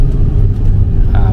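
A Perodua Alza with upgraded rear disc brakes and a double-layer servo brake booster pulls away on a test drive, giving a loud, steady low engine and road rumble heard up close.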